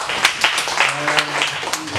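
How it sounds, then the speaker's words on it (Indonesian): A church audience gives a short burst of applause with distinct claps at an uneven rhythm. Voices murmur underneath. "Tepuk tangan sekali lagi."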